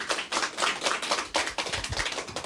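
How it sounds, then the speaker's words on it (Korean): A crowd at a citizens' workshop applauding, steady dense clapping that carries on throughout at moderate loudness. "박수 부탁드릴게요."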